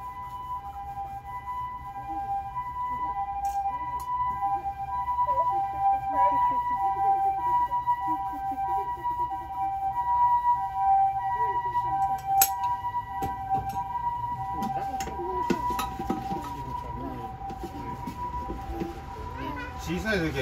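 A two-tone emergency siren alternates steadily in the background as people talk over it.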